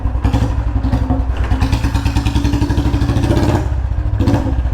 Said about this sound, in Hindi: देखो भाई पैकिंग डालने से पूरी आवाज़ पीछे से आ रही है